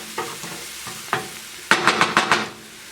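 Paprika gets stirred into frying potatoes for patatas bravas, with a soft sizzle broken by a few scrapes and then a quick run of five clattering spoon knocks against the pan, close and free of talk.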